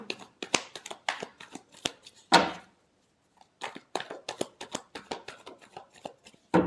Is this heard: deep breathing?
no